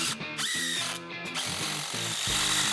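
Screws driven into a wooden sofa frame during reassembly with a power driver in an awkward, cramped position, giving a series of short buzzing whirs broken by brief pauses, loud and close.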